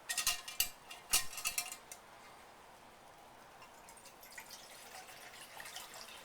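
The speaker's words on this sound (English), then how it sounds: "we'll fill up our canteen cup with some water" Water goes into a U.S. canteen cup outdoors beside a lit Swedish stove: a few sharp metallic clinks and splashes at the start, then a faint, soft trickle and drip that continues quietly.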